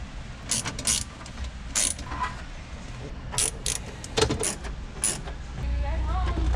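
A hand ratchet clicks in short bursts while undoing the dashboard airbag bracket bolts of a 2011 GMC Denali 2500 Sierra, several quick close ratcheting runs over a low cabin background, with speech heard in parts.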